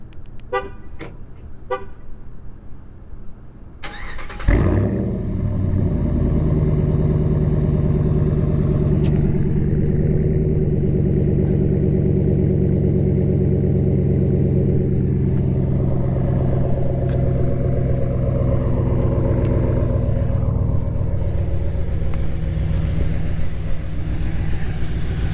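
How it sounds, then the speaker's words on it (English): A car with a Carven Competitor Series exhaust and K&N cold air intake cranks and fires up, then settles into a loud, steady, deep exhaust drone held close for about twenty seconds after a few faint clicks. "here's the Carven Competitor Series exhaust startup"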